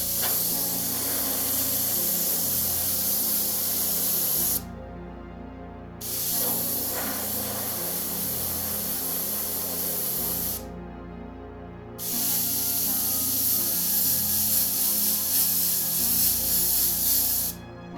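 An airbrush spraying paint onto quilt batting, a loud close steady hiss in three long bursts separated by two short silent pauses.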